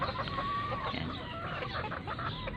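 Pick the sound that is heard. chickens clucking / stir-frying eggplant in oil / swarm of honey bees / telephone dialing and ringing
chickens clucking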